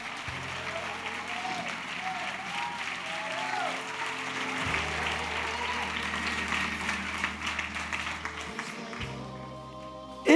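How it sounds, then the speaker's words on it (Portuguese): Church congregation applauding during a worship service, steady clapping layered over sustained music with low organ-like tones for around ten seconds. "Pode aplaudir o Senhor."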